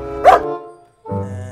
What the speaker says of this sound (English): beautiful dog.